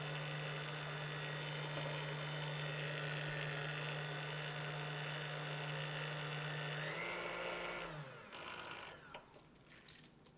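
An electric hand mixer runs on high, beating pumpkin bread batter in a bowl with a steady, loud motor whine for about eight seconds before winding down and stopping, leaving quieter clatter.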